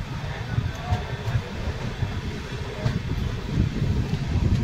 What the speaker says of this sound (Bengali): কিছুক্ষণ দাঁড়ানোর পরই মাথাভাঙা স্টেশন ছেড়ে ট্রেন বেরিয়ে যাচ্ছে